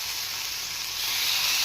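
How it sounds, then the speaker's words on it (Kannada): Fish pieces tawa frying on a hot flat griddle, a loud continuous close sizzle with a bright steady hiss that grows slightly stronger, no speech. "ತವಾ ಫ್ರೈ ಮಾಡೋಣ"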